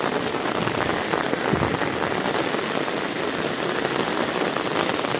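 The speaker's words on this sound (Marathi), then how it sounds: "फुल जोराचा पाऊस चालू आहे" Heavy monsoon rain pours steadily over paddy fields during rice transplanting, a dense, loud, unbroken hiss of drops with no voices.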